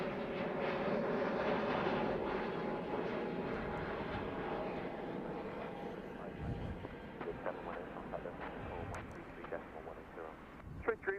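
A British Airways Boeing 787 jet at the runway threshold at Heathrow gives a steady, moderately distant engine roar that slowly fades, with faint talk and radio chatter in the background.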